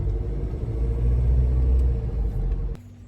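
A car drives on across a bridge that has just reopened near Port Arthur, Tasmania, its engine a steady low rumble and road roar close by, then the sound drops abruptly to a quieter idle hum near the end.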